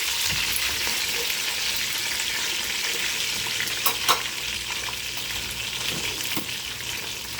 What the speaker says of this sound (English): putting onions in the oil just make it taste better when you fry it